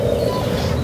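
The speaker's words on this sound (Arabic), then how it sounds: "هذا كروان" A karawan, or stone-curlew, calling at an animal reserve in Saudi Arabia, a brief loud close cooing bird call with no talking.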